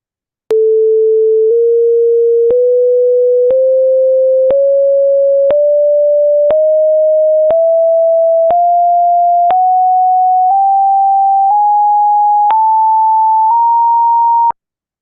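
Synthesized pure tones play back as a rising scale, fourteen steady notes each about a second long, stepping up one semitone at a time with clean, abrupt joins, loud and alone with no talk.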